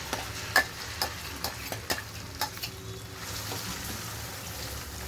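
Spice paste frying in oil for an okra gravy curry, a soft steady sizzle with several light clinks and scrapes of a stirring spoon against the pan, close by and without talk.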